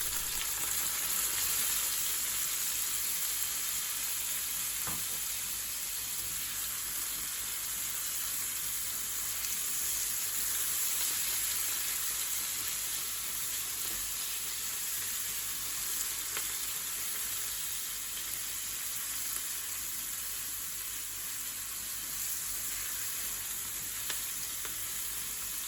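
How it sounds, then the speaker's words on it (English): Garlic and ginger frying in oil, a continuous bright sizzle that holds steady and even for a long stretch, close and constant with no talking. "Add the garlic and ginger and fry for 1 minute."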